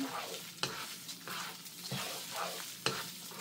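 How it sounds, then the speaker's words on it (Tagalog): Rice being stirred in a frying pan with browned aromatics, a utensil scraping and tapping the pan in a few sharp strokes over a steady sizzle close by. "Ilalagay na natin yung kanin. Haluin natin."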